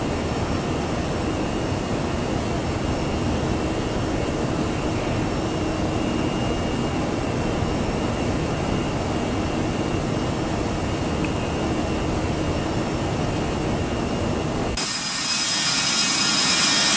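Jet engines of a Toliss A319 roar steadily as the airliner climbs out in X-Plane 12, a loud, continuous broadband rumble that shifts to a brighter, thinner hiss near the end.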